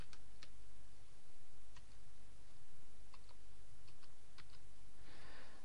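A security code being typed on a computer keyboard, bursts of quick, light key clicks spaced irregularly over a steady background hum, close and fairly soft, with no voices.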